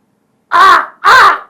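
A voice imitates a crow's caw, giving two loud, close, harsh calls in quick succession, alone against silence.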